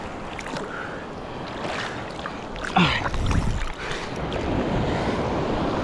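Big sea waves surging around a small fishing boat, a steady wash of water and wind noise with a louder splash midway, close and continuous.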